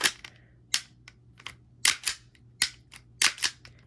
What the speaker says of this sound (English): here's how it sounds with the basic, just the Glock mag